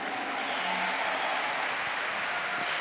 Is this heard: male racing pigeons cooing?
no